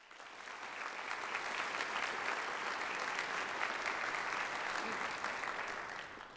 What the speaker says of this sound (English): Please let us recognize all the new Honor Society initiates in the Sorrell College with a round of applause.